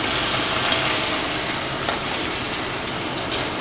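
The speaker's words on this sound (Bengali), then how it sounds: "সব মাছগুলো আমি ভেজে নেব" Pieces of katla fish frying in hot mustard oil in a kadai: a dense, steady sizzling hiss, fairly loud and close, running unbroken with a faint pop or two and no talking.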